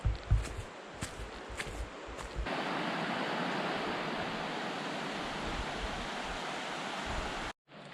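The Chattooga River flowing at a low level along a foothills trail, a steady broadband rush heard close and alone after a few early footsteps or knocks, cutting off abruptly at the end.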